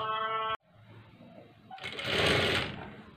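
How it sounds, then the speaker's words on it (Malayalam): A sewing machine double stitching a blouse sleeve: a short buzz that stops abruptly, then after a quiet pause the motor whirs up again into a louder, close, continuous run. "ഫുൾ ഇതുപോലെ ഡബിൾ സ്റ്റിച്ച് ചെയ്തെടുക്കുക."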